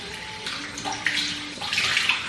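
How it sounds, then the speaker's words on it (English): Tap water runs steadily throughout while someone rinses their face at a bathroom sink after applying a scrub, a continuous close splashing hiss that swells and shifts as hands move through the stream. "I'm gonna rinse it off."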